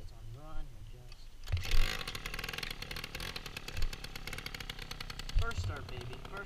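A moped engine fires up for its first start after a quiet stretch of talk, breaking into a loud, busy, rattling idle with brief revving swells, while a voice speaks over it at night.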